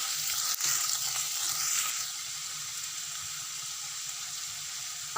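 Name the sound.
sliced onions frying in hot oil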